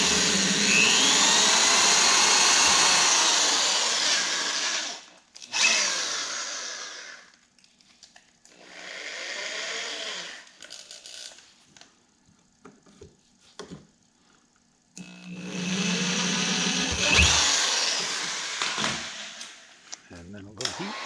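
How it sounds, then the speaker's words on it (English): A power drill drilling a pilot hole through the side of a steering handle whirs in several bursts of different lengths, with pauses and quiet stretches between them. "drilling a pilot hole"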